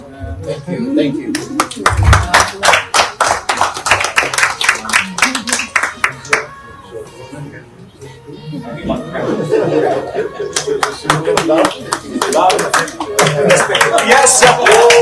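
Audience at a formal cultural event gives a minister a round of applause, with sharp, closely spaced claps up front that thin out midway, then pick up again, while voices and some laughter run underneath.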